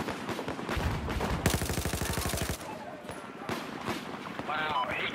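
DMR rifle fire in Battlefield 4 on Operation Locker, with a rapid rattling string of shots mixed with other game noise. A player talks over much of it.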